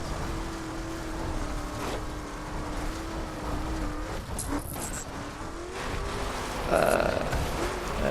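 A car in the racing video game The Crew strains and labors uphill, its engine holding a steady droning pitch with brief tire squeals and sharper bursts, moderately loud throughout.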